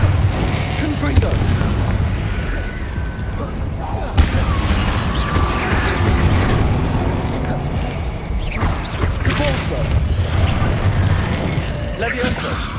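Confringo spell blasts from Hogwarts Legacy, a Harry Potter game, keep up a constant din of booming, crackling impacts and rumbling combat noise for the whole stretch, loud and close, with a voice speaking over part of it.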